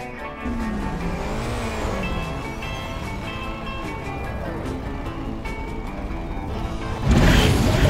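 Cartoon race cars speed along in the Cars 2 video game, with engines whining and revving under background music and character voices. A louder rush of noise bursts in near the end.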